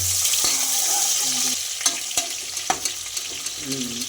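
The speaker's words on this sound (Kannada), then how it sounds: "ಈಗ ಈರುಳ್ಳಿ ಹಾಕ್ಕಂತೀವಿ ರೋಸ್ಟ್ ಆದಮೇಲೆ ಈರುಳ್ಳಿ ಹಾಕ್ಕಂತೀವಿ ಈ ಥರ ಫ್ರೈ ಮಾಡ್ತೀವಿ" Onions sizzling and frying in a pan for a bachelor-style palav, a steady close hiss broken by a few sharp ladle scrapes and clinks as they are stirred, with no talk.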